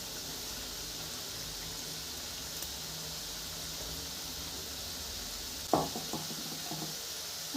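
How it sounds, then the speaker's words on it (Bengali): Kucho nimki dough pieces frying in oil, a quiet steady sizzle that swells briefly with a burst of bubbling and clatter near the end, no voices. "এই দেখুন সব খুলে গেছে, তেলে দিলে সব খুলে যাবে।"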